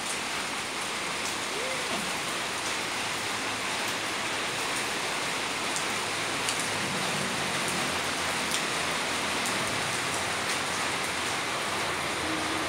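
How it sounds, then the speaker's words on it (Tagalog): Steady rain falling outside a house, a constant even hiss of drops on surfaces lasting over twelve seconds, with no clear talk over it. "Punta ako sa labas. Manonood ng ulan."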